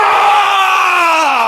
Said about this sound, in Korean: 앞쪽에서 비명이 터졌다.